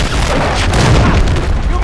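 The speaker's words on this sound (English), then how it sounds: "Hostiles launched a cruise missile." A loud, rumbling boom from a cruise missile explosion in a military video game, dense and sustained with crackling debris, while a voice talks over it.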